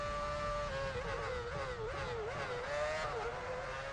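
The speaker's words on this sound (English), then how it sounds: "that Ferrari is well too quick in a straight line" Ferrari Formula 1 car racing in the video game F1 Championship Edition at the Turkish Grand Prix, a high whining engine note rising and dropping through gear changes, loud and continuous with no talk.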